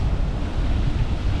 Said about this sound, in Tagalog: Ito naman yung dagat.